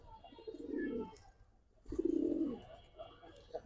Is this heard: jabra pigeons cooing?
yes